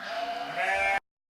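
A sheep on the Shetland or Orkney Islands gives one long, loud, wavering bleat close by, which cuts off abruptly into silence.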